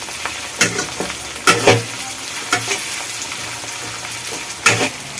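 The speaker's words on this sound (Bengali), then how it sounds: "বন্ধুরা পেঁয়াজটা হালকা লাল লাল ভাজা হয়ে গেছে, আমি এর মধ্যে দিয়ে দেবো এবার কাঁচা লঙ্কা কুচি" Chopped green chillies sizzle in hot oil with lightly browned onions, a steady close frying hiss broken by several sharp stirring scrapes and clatters of a spoon against the pan.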